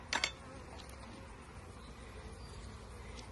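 Honey bees buzzing around a hive during a honey harvest, a faint, thin hum near and far with a brief closer buzz at the start.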